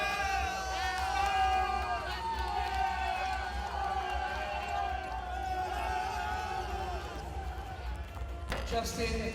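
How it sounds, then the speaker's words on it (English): Arena crowd cheering loudly and steadily after Vietnam's men's 5x5 basketball bronze medal win over Indonesia at the 2019 SEA Games, with shouting and whoops over a continuous roar and a commentator talking over it. "Celebration on the floor from the Vietnamese players as they cheer on their squad"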